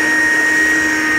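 A handheld mini car vacuum cleaner runs steadily with a loud, constant whine close by, no talking.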